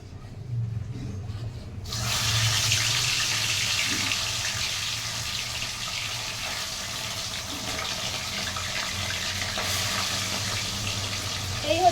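Bata fish frying in hot oil in a wok makes a steady, loud hiss and sizzle that starts abruptly and holds for the rest of the clip, with a faint low hum underneath.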